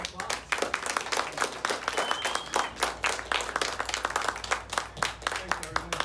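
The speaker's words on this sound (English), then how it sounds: "Please help me welcome Frank Daly to Changing Hands. With a round of applause." A small audience claps to welcome a speaker at a bookstore talk, with sparse, distinct handclaps in an uneven patter rather than a dense roar, close and moderately loud throughout.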